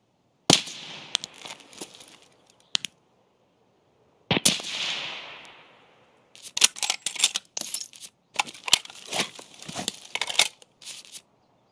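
Gunfire in Escape From Tarkov: a sharp shot, a ringing echoing report that decays slowly, then rapid bursts of loud cracks that follow one after another.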